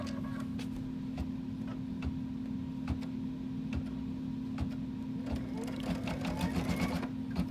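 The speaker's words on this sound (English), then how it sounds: "now that's going to stitch my next pleat." A Kimberbell embroidery machine stitches a pleat on a fabric face mask with a steady, close mechanical whir and a rapid regular ticking of the needle, under a soft background hum.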